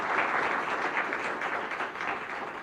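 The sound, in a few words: audience applause for a speaker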